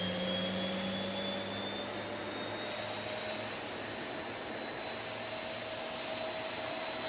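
Boeing 737-800 jet engine spooling up during start in the X-Plane 11 flight simulator, heard from outside as a steady loud roar with high whining tones, no talking.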